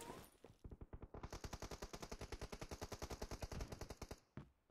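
Automatic gunfire in PUBG Mobile rattles off in a fast, even burst of around thirty shots lasting about three seconds, loud and close, after a few scattered opening shots.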